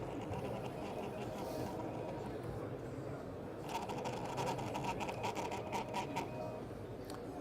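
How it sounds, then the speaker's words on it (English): A small ticket printer from a Motorola MC75 handheld setup whirs and buzzes steadily, and the mechanism grows louder partway through, heard faintly under a low background hum. "you'll see that it's starting to print the ticket"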